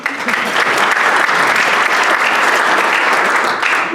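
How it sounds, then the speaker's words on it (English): Loud, dense applause fills a Rotary club meeting room, a continuous wash of many hands clapping close by at a steady level for the full few seconds. "So give him a round of applause."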